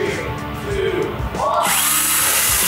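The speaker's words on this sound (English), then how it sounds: "So this is an 18 volt HP brushless. Yeah, come on up on the Craftsman." A Craftsman 18 volt HP brushless power tool runs loudly up close, its motor whine climbing sharply in pitch as it spins up partway through.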